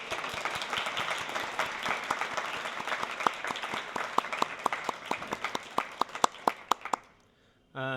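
An audience applauds the sponsoring college at a game jam showcase in Winnipeg, dense clapping ringing out for about seven seconds with a few sharp individual claps standing out near the end before it stops abruptly.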